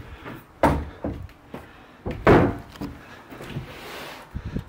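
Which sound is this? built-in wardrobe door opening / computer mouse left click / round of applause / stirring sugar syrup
built-in wardrobe door opening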